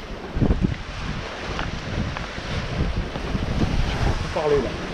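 Strong wind at sea blowing across a sailboat on a windy passage from Marutopoli to Katakolon, heard as a continuous gusty rush with microphone buffeting and surging water, with faint talk now and then.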